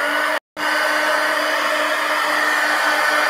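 Hair dryer blowing over a mixed media collage pumpkin, a steady close whirring hiss that cuts out for a split second near the start and then runs on evenly.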